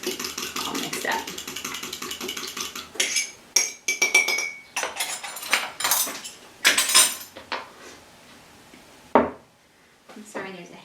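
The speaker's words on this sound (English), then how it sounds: "Just beat this up really well so the egg white gets all mixed up." A utensil clinks and scrapes against a bowl while beating egg white into paleo pizza crust batter, with irregular taps and rattles, some louder bursts, and no talk over it.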